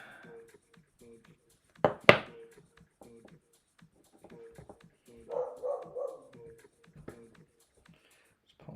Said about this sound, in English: Dog barks at everything.